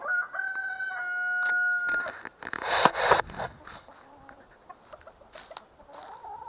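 Chickens cluck and squawk nearby, with a rooster's crow and rustling, scratching sounds around them.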